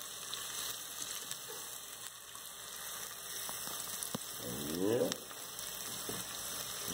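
Onion and garlic frying in a pan, a quiet soft sizzle with faint crackles and a brief louder burst as the onion goes in.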